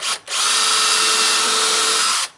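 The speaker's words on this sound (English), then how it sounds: "we'll just drill, just push that off the edge there" A power drill whirs loudly and steadily for about two seconds after a brief start, drilling a pilot hole, then stops abruptly.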